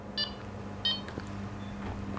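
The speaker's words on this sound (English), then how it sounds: "I can turn to beep speed 2" An electronic device set to beep speed 2 gives two short, sharp beeps about half a second apart, faint against a low steady hum, followed by a soft click.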